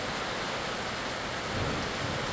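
Heavy thunderstorm rain pouring down, a dense, constant wash of rainfall with a low rumbling swell of thunder near the end.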